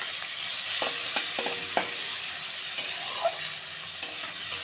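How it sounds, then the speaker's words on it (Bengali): Onions frying in a pan give off a steady, bright sizzle, broken by several sharp scrapes and clicks as a spatula stirs them. "পেঁয়াজটা একটু লাল লাল করে ভেজে নেব।"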